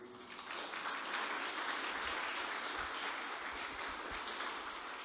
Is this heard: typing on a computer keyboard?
no